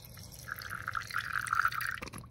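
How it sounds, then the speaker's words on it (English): Water pours steadily into a bowl for about a second and a half, a bright trickling fill that stops abruptly with a small clunk. "Just pour some water in."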